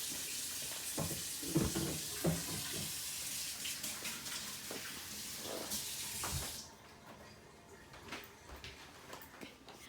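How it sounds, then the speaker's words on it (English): A kitchen tap runs steadily as hands are rinsed under it, a close hissing splash with small shifts as the hands move, then the flow shuts off partway through and the room goes quieter. "Let me rinse my hands."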